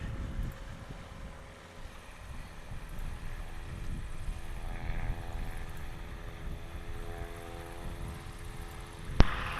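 A STOL airplane's propeller engine drones at a practice event in Creswell, Oregon, a steady, moderately distant buzzing hum with faint tonal harmonics, ending with a brief sharp click, and no talk.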